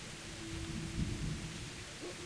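Rain falls steadily in the video game Kingdom Come, with a low rumble of thunder rolling underneath the constant hiss.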